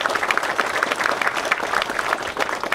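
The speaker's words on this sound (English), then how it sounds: "Let's give the Board of Directors a round of applause for their efforts." An audience at a Scenic Byway commemoration event gives the board of directors a round of applause, a steady wash of many clapping hands heard at moderate distance with no speech over it.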